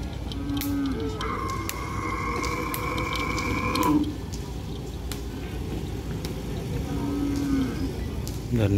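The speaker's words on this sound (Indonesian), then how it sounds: "Dan di situ banyak deretan sapi." Cattle at a training field moo in low, drawn-out calls, one long and others shorter, some near and some farther off, over steady outdoor background noise.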